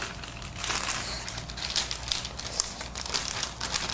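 Plastic vinyl wig packaging crinkling and rustling in close-up, continuous busy crackles for several seconds with no talk.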